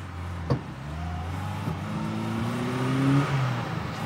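A stock car accelerates from inside the cabin, the engine note rising steadily as revs build, with a brief thump near the start and a loud, continuous drone throughout.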